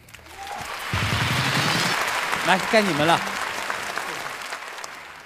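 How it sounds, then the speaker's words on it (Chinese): Students in a classroom activity burst into applause that carries on under a man's speech, with a voice briefly rising above the clapping. "掌声鼓励。"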